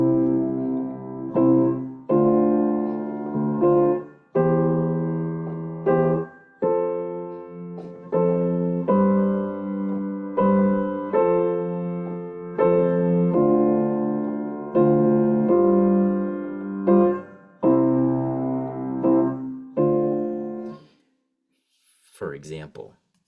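Gospel-style triplet 12/8 groove on piano, with steady rhythmic chords rolling in a swung three-feel throughout and moderately loud and close, then stopping abruptly with a short noise at the end.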